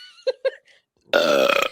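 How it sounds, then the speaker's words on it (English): A single loud, drawn-out burp with a rough, rattling texture, coming right after a couple of short spoken syllables from the same person in a podcast-style setting. "I had to burp"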